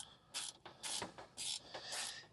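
An extra-long SUZUME flex head ratcheting wrench clicks through a few quick tightening strokes, faint bursts of bright ratcheting chatter separated by short pauses.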